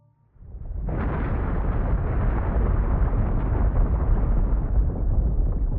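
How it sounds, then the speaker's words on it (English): A volcanic eruption sound effect: a deep, roaring rumble bursts in after a short silence and holds steady and loud to the end, with no voices. "millions of volcanoes erupted everywhere, filling the atmosphere with greenhouse gases like carbon dioxide"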